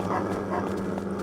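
Ghost dogs from the video game Fragile Dreams: Farewell Ruins of the Moon give a few quick, fairly soft barks and yips over a low game background.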